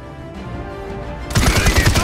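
An assault rifle fires a rapid burst in the Paladins video game, loud and close, after a short stretch of quieter game ambience.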